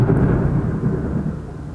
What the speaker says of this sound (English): So if you hear any thunder or if you see the lighting go a little bit different,